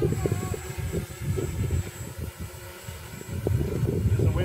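Motor of a model aircraft in flight, a steady buzzing drone that swells and fades slightly as it passes, heard at a moderate distance with wind noise and no talk.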